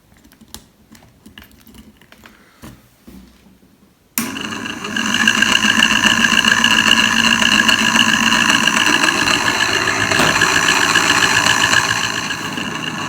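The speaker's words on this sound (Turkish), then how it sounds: "Yani şimdi bir e, motora enerji vereceğim." The small electric motor of a homemade ayran churning machine starts abruptly after a few quiet clicks, then hums steadily with a high whine, loud and even, easing slightly near the end.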